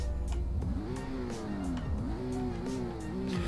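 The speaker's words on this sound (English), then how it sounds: "So this is how it sounds. Startup's pretty good." A car engine in the Roblox driving game Greenville, Wisconsin, an unreleased model, idles and revs up and down in a steady simulated hum that rises and falls in pitch as the car pulls away.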